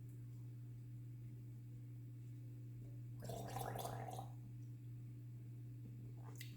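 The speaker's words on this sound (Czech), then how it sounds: "Zakloktáme." A person gargles for about a second in a quiet room over a steady low electrical hum, a short bubbling burst, close and moderately loud, with no speech.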